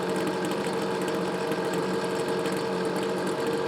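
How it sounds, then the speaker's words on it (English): A Homelite ZR gas leaf blower engine idles steadily nearby, a constant low rumbling hum with a fine rapid pulse and no voices. "That is probably about the quietest leaf blower I've ever used or ever had."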